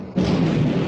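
Battleship main guns opening fire, a single heavy deep boom that swells suddenly and rumbles on for under a second, loud and close.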